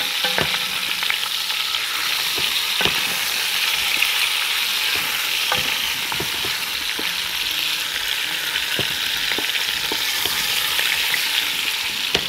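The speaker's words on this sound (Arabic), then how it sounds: "احنا حطينا بس زيت وفلفل اسود وسايباها اهي تتشوح اهي" Oil and black pepper sauté in a pan, a steady close sizzle and fry hiss running throughout with scattered small pops and crackles.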